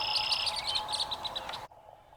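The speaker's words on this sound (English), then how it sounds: "The red-winged blackbird is very common in North America, and he has a very distinctive song." A red-winged blackbird in North America sings a bright, trilling, repeated song. It comes through clearly for about a second and a half against a faint outdoor background, then cuts off.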